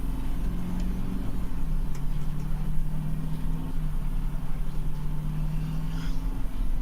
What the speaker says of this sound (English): the only thing that really keeps it interesting is the sound of the bus.